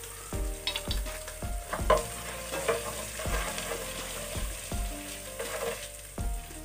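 A tablespoon of white cumin seeds sizzling in hot oil, a low crackling hiss punctuated by a series of spoon knocks and scrapes against the pan.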